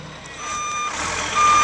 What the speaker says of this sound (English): This is the wood mulch truck.